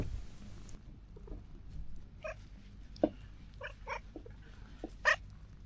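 A cat meows several times in short, close calls in a garden, with quiet outdoor background and a few soft rustles.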